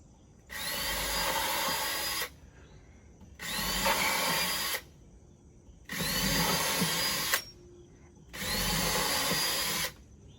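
A power drill pre-drills holes in a wooden desk piece, running in four separate whirring bursts of about two seconds each, with short quiet pauses between them and no talking.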